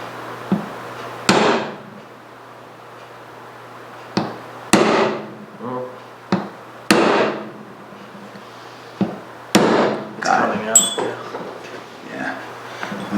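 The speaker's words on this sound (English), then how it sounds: "sometimes it's better to use a smaller hammer because that big hammer is kind of hard to control" Sharp metallic hammer strikes on a punch, driving pins out of South Bend 10K lathe shafts in a workshop; about eleven close, loud blows arrive at irregular intervals, some in quick pairs, with no talk between them.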